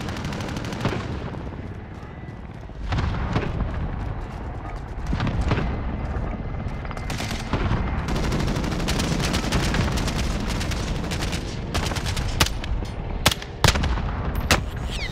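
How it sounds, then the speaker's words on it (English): Cluster strike bombardment in a Call of Duty match, a dense rolling barrage of gunfire and explosions sustained throughout, with a brief dip early on and sharp louder cracks near the end. "Allied cluster strike inbound."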